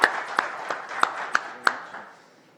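Applause from a workshop audience on fire safety requirements in building codes, a short burst of scattered hand claps with a few sharp louder claps, fading out after about two seconds.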